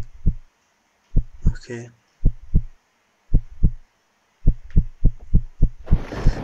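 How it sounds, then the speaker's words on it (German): A loud, close heartbeat sound effect from the horror video game One Late Night thumps in paired beats with short pauses between them, and a brief voice comes in near the end. "Boah, dieser Herzschlag."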